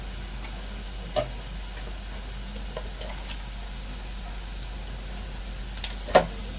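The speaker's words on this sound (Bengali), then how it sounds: "আদা রসুন বাটা আর পেঁয়াজটা আরেকটু ভালো করে ভাজা করে নেব" Ginger-garlic paste frying in oil with onion and dried chili for a lote fish curry: a low, steady sizzle with a few sharp pops and clicks.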